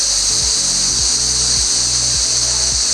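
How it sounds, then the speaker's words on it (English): Cicadas fill the Northern Territory bush with a loud, steady, high-pitched buzz that never lets up. Soft low thumps repeat about every half second underneath, and no one speaks. "I know you can definitely hear it, but the cicadas are making it rain."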